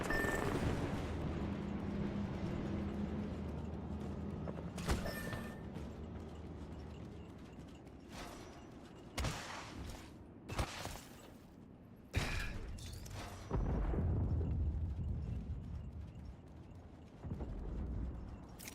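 Fuse's Knuckle Cluster explosives firing in Apex Legends: a series of sharp, scattered bangs and cracks over several seconds amid low rumbling game ambience, moderately distant and uneven in rhythm.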